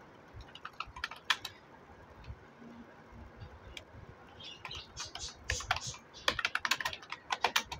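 Keys clacking on a computer keyboard while an automatic email response is typed in a cPanel setup, bursts of quick irregular taps that thicken toward the end, close and fairly quiet with no talking.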